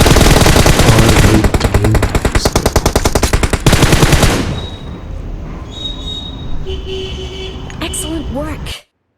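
Rapid machine gun bursts from an online battle-royale shooter game, loud and dense for the first few seconds, then giving way to quieter game sounds and a voice speaking.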